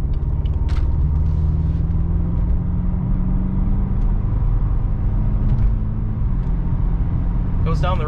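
Steady low engine rumble and road noise from inside a moving 2018 BMW 430xi Gran Coupe AWD, continuous and loud, with faint talk beneath it.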